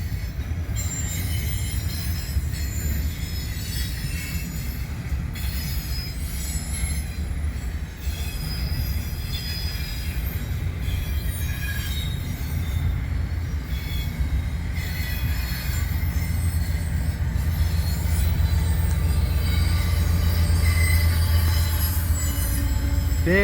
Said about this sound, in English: Mid-train DPU's coming, and then more train behind it.